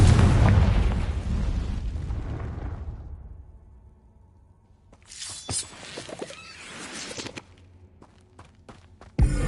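A Confringo fire spell explodes in Hogwarts Legacy, a loud booming blast that rumbles and fades over a few seconds. Scattered crackling impacts and footstep-like clatter follow, then a sharp final burst.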